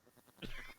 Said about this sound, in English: Somebody's got a cat in the background